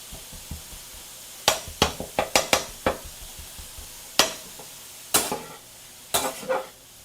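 Ground chuck fries in a pan without added oil, a soft sizzle under a series of sharp scraping and tapping strokes as a utensil breaks the meat apart, irregular clusters of knocks, close and clear.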